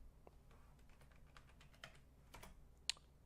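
Keys tapped on a computer keyboard during a PC game, a quiet, irregular patter of separate clicks with one sharper key strike near the end.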